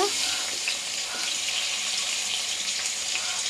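Tomatoes and tamarind sauté in a hot pan for pudina pachadi, giving a steady, dense hiss and sizzle with faint stirring scrapes throughout.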